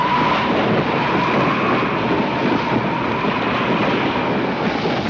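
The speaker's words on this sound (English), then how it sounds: "The wind really sounds like a storm." Stormy wind roaring around a boat at sea in a film scene, a dense, steady rushing noise that stays loud and unbroken with no talk over it.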